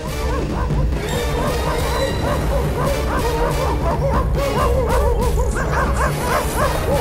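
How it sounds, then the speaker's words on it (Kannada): Cartoon dogs bark and yip loudly in a steady, busy run, with crashing thuds and a whimper mixed in over a dense animated soundtrack. "ಅಯ್ಯೋ ನಾಯಿಗಳು, ಜೀವ ಬೇಕಾದ್ರೆ ಓಡು."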